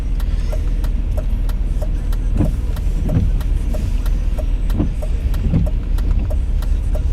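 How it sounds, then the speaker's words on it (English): Interior of a car waiting at a road in the Netherlands, with a steady engine idle and a rhythmic ticking, presumably the indicator, while traffic passes outside as soft whooshes, no talking. "Waiting for the traffic to pass by from the other sides."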